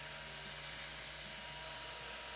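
A cordless drill spins a wooden peg being sanded with 120-grit paper, giving a steady high-pitched whine that stays even and continuous at close range.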